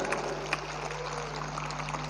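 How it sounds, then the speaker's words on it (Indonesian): Steady applause from an audience at an Islamic sholawat gathering at a university, a dense even patter of many hands with no breaks across the short stretch. "Tepuk tangan sekali lagi untuk Riyadul Jannah"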